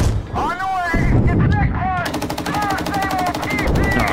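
Tank machine gun firing in the PC game Gunner Heat, a loud continuous rapid burst of gunfire with a booming low rumble and rising whistling tones, sustained through most of the span.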